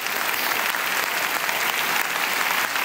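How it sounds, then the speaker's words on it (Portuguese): A church congregation claps, a dense, steady wash of applause from many hands held at an even level throughout, with no speech over it. "E vamos aplaudir a Jesus."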